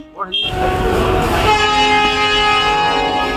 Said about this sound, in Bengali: ট্রেনেও চলে এসছে অনেক লেট করে।